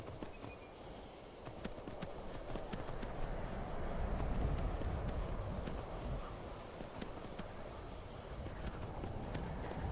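A horse's hooves beat in a steady, quick clip-clop while ridden through Skyrim, quiet and somewhat muffled under a continuous low rumble of movement.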